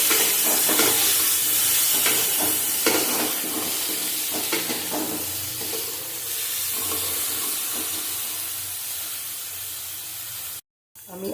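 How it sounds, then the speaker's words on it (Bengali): Eggplant fries in a pan and is stirred, producing a loud, continuous close sizzle with scraping strokes, cut off briefly near the end. "লবণ দেবো নাড়াচাড়া করবো বেগুনটা ভেজে নেবো"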